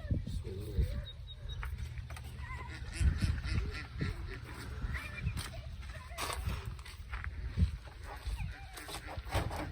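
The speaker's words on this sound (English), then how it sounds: "The ducks are saying hi. Hear them?" Ducks quack repeatedly on a farm, their calls fairly close and mixed with a low rumble of background noise and people talking nearby.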